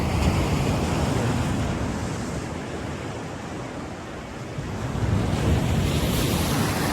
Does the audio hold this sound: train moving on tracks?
no